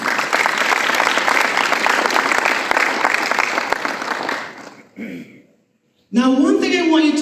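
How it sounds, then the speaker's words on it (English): Audience applause at an awards ceremony keynote in Barbados, a dense sustained clapping that fades out and drops to silence, followed by a voice speaking. "Give yourselves a round of applause"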